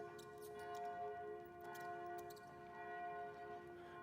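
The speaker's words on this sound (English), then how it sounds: "As we hear the bell chime" A bell chiming softly and at a distance, its sustained ringing tones hanging steadily under faint background noise.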